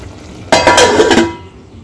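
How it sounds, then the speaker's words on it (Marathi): A lid set down on a pan of frying jackfruit bhaji gives one sharp metallic clank with a brief ringing clatter, then a quieter sizzle underneath. "याच्यावर आता आपण झाकण ठेवून द्यायची आहे"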